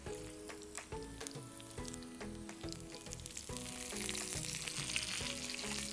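Dried red chillies and curry leaves spit and crackle in hot oil for a Kanyakumari fish thokku, a steady close sizzle that grows louder and denser toward the end, with no talking.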